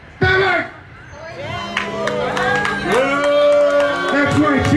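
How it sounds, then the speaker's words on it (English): Wrestling match crowd cheering: a sharp opening shout, then sustained cheers, whoops and babble from the audience with voices rising over a steady roar. "That's right, cheer for me."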